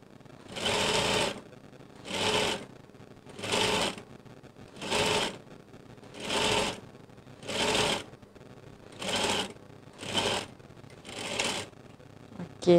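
A sewing machine stitches a skirt hem in nine short, even bursts with brief pauses between them, each a close, rapid whirring chatter.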